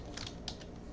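Soft, close computer keyboard typing while entering labels into Excel spreadsheet cells, a few light clustered keystrokes over a quiet room background.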